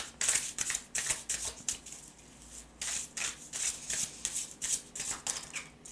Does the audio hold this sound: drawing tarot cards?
yes